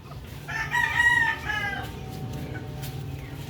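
A rooster crows once nearby, a loud drawn-out call, followed by softer clucking from chickens in the background.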